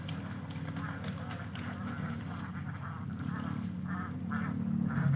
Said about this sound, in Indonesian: Saking bahagianya meri-meri tersebut terngiang-ngiang.